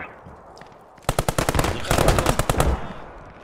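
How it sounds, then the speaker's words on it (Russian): Machine gun fire in the WWII shooter Post Scriptum: after a quiet lead-in, a sustained rapid burst of sharp automatic shots rattles loudly for about two seconds, then trails off. "Я слышу пулемет."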